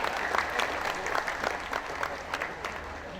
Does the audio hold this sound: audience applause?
yes